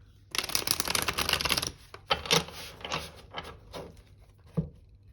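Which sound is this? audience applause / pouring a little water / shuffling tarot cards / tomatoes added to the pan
shuffling tarot cards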